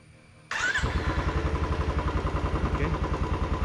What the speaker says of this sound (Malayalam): എഞ്ചിൻ ഓണാക്കി